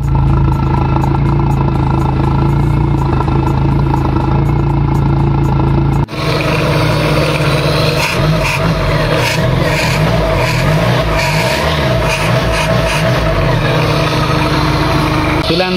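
A car engine fitted with a Pierburg 2E carburetor runs at a steady idle after starting, a continuous loud mechanical drone that thickens midway with added rumble, heard alone.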